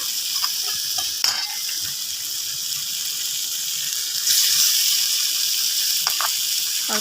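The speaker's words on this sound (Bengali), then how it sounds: "এর ভিতরে ডিম দিয়ে দিলাম আর ডিম দিয়ে নাড়তে থাকলাম" Eggs stirred and fried in a pan, with a constant close sizzle and a few scraping clicks from the stirring. The sizzle grows a little louder partway through.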